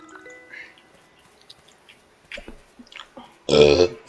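A single loud, close burp erupts near the end, after quiet game sound effects and faint background noise.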